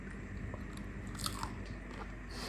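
Crunchy vegan croquettes being bitten into, giving a loud, crisp crunch with a few sharp cracks and some chewing. No one speaks.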